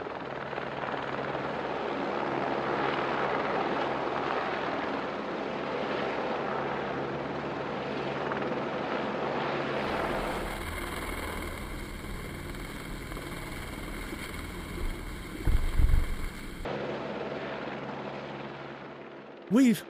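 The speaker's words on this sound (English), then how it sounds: "The next part of the operation involves lifting the cables onto the top of the towers using the helicopter." Helicopter lifting cables onto the tops of towers while building a timber trail, a loud, steady rotor and engine roar that shifts to a thinner, brighter whine partway through, with a brief thump near the end.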